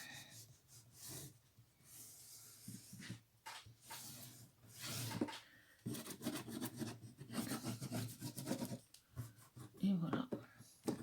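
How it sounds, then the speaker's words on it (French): A fingernail scores fold lines into cardboard from DVD boxes, giving repeated rough scratching and rubbing strokes with pauses between them. Someone speaks softly and breathes close to the microphone throughout. "Ici, je marque le pli ici avec l'ongle."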